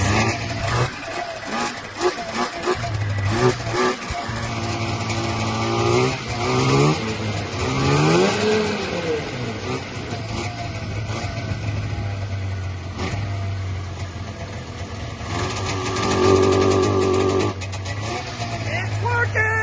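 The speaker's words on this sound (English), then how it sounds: "Rev it up a few times" A custom Polaris Indy snowmobile fitted with a launch control mod revs loudly and repeatedly up close, its engine pitch climbing and falling over a droning idle, with people talking throughout.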